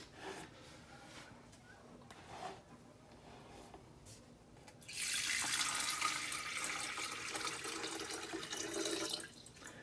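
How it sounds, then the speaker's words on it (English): Water pours into a Cuisinart CPK-17 electric kettle in a steady, loud splashing stream for about five seconds, following quieter handling sounds and light clatter. "I'm gonna add a little water and we'll see how it goes."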